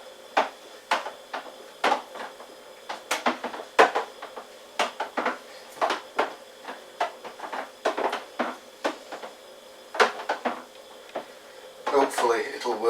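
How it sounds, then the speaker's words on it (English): A spoon clinks repeatedly against a fermenter while stirring home-brewed Russian Imperial Stout just after the yeast is pitched, steady rhythmic taps close by, with speech present. "Just give it a little stir."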